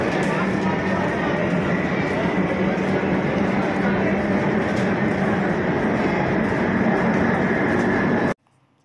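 The Jammu Tawi–Kolkata express train pulling out of a station, heard from on board as a loud, steady rumble with clattering running continuously before cutting off abruptly near the end, with a voice faintly present.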